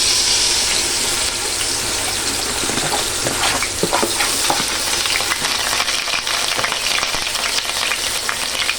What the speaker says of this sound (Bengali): একটু ভালো করে এটাকে ভেজে নিব যেন এটাতে কোনো কাঁচা গন্ধ না থাকে